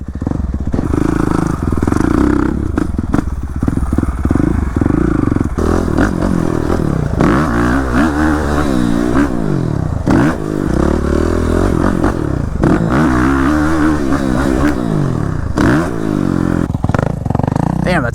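A new motorcycle engine runs loud and close throughout, with rising and falling revs as it rides, while speech and shouts from the rider break in over it.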